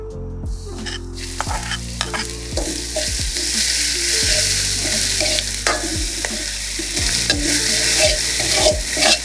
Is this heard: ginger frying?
yes